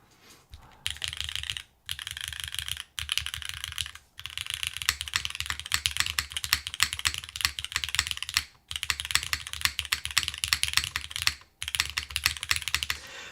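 Rapid typing on a custom Manta mechanical keyboard, a near, dense clatter of sharp key clicks in long bursts broken by brief pauses, with no voices.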